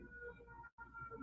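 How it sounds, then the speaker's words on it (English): Emergency sirens wailing outside a building, heard from indoors as a steady faint tone with a brief dropout near the middle; no talking over it. "So there are some sirens outside of the building I'm in"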